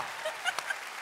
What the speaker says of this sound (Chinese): 掌声送给小七哥